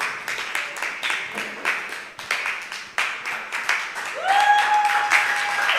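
An audience at a talk applauds with dense, steady clapping, and a thin whistle-like tone rises near the end.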